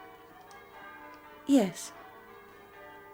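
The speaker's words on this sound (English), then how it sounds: "Aren't the bells wonderful?" Church bells ring softly in the background while a voice speaks briefly over them.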